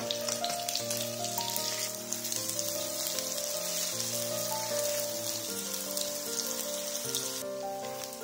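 Tofu slices sizzle in oil in a wok over medium-low heat while frying golden, a steady crackling hiss heard under continuous melodic background music.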